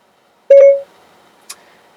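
Activation tone from a Ford Sync 3 car system calling up Siri: a short, clear two-note electronic chime, followed a second later by a faint, brief higher blip, with quiet cabin hush between.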